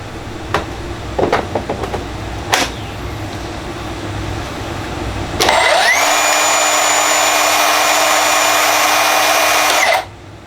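A Milwaukee M18 Fuel 2736-21HD cordless table saw spins up with a loud, steady high whine for about four seconds, then its brake stops the blade abruptly, after a few close handling clicks and knocks.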